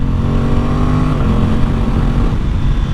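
Factory exhaust of an Aprilia Tuono 660 twin-cylinder motorcycle, a steady, loud, close engine drone with a slight rise and fall in pitch through the ride and no talking.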